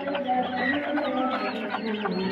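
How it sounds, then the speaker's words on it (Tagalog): A chicken clucks and murmurs close by in a continuous burst of soft, throaty calls, with no talking over it. "Mayroon pa dito isang manok, oh."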